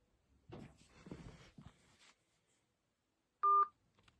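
A single short pair of phone keypad dialing tones sounds clearly for a prank call, following muffled movement and laughter-like sounds, then silence.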